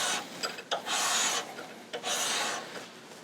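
A hand counterbore cutting tool scrapes into the block of a Caterpillar C15/3406 engine, giving close, rough rasping strokes in an uneven back-and-forth rhythm with no talk.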